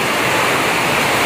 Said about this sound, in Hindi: भाई साहब खतरनाक बारिश हो रही है।